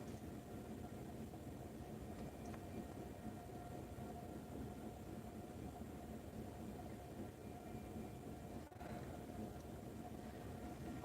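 A long train rolls past at a crossing with a steady low rumble of cars, moderately loud and continuous, with no one talking.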